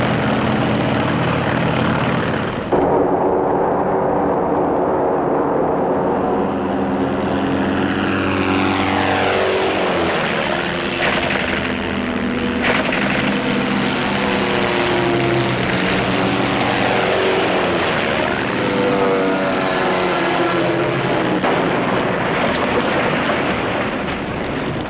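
Several WWI fighter planes drone past on propeller engines, their pitch sweeping up and down in repeated Doppler arcs as they fly by, loud and continuous with no talk.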